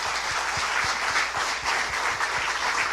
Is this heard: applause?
yes